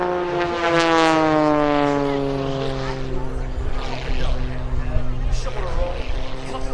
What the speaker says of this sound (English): You're looking at the most high-performance aerobatic biplane in the world.